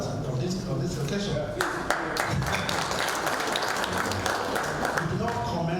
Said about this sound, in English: the round of applause is actually very well deserved on this occasion